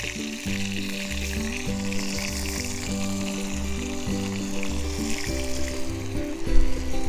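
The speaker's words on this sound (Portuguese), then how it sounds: "aqui temos então o primeiro passo, a cebola a refogar bem, juntamente com a própria carne" Onion and meat sautéing together in a pan, a continuous close sizzle and crackle that stays steady throughout beneath background music.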